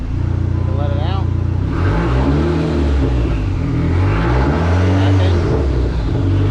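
A Nissan SR20 turbo engine in a rusty car, running with the gearbox put in first gear and the clutch let out so the unloaded tire spins; a steady loud drone with rising gear whine, under someone talking.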